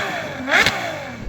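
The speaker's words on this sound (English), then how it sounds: "Can we have a listen to the Ferrari, please?" Ferrari 812 V12 engine blipped in a single loud, sharp rev that climbs to a high-pitched peak and falls away, close and clear with no talk over it.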